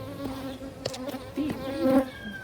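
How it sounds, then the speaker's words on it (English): Honeybees buzz around a hive that has just been moved, a steady close drone with swelling and fading passes as individual bees fly near, with no voices. "They're flying around your head, they want to sting you."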